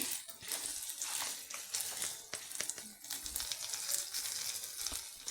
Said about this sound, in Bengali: হলুদ দিচ্ছি ভালো করে মশলার সঙ্গে ফোড়নটা ভেজে নিচ্ছি